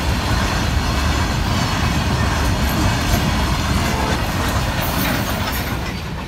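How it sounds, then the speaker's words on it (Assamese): A train rolls past a lowered railway crossing gate in Golaghat, Assam: a loud, continuous rumble and clatter of wheels close by, steady throughout and easing slightly at the end, with no talk. "5 মিনিটমান ৰখাৰ পিছত ট্ৰেইন আহিলে।"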